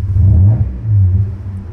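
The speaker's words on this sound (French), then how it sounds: "coup de gaz quand même." A car from the film Taxi gives a quick throttle blip, its engine revving up in two close, loud rumbling surges with no talk over it.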